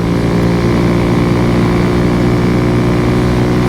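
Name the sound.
Kawasaki Z125 Pro motorcycle engine at full throttle, 8,500 RPM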